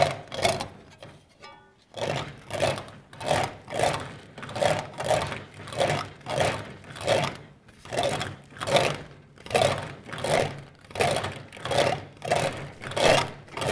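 Steady, rhythmic metallic rolling and scraping as sheet metal for a motorcycle fender is planished back and forth through an English wheel in regular close passes.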